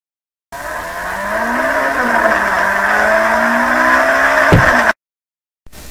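A cartoon-style car engine revs and accelerates away with rising pitch, loud and close, ending in a short sharp swoosh before cutting out, with a tire-squeal edge in a Lego animated jailbreak getaway.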